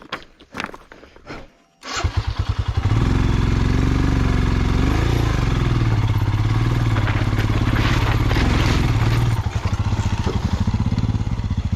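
A motorcycle stalled on a rough mountain track between Pangong and Chushul via Merak catches after a few cranks, then idles loud and close with a steady, thumping chug for about ten seconds.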